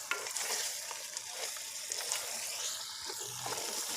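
Mutton curry fried and stirred in hot oil with garam masala, a steady close sizzle with scraping stirs and small bubbling crackles throughout, no talking.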